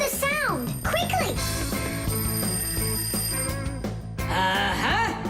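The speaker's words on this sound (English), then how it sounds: "I think I can hear my alarm ringing" A cartoon alarm clock rings loudly and continuously in a rapid metallic trill, with bright whooping sound effects and a busy musical score layered over it.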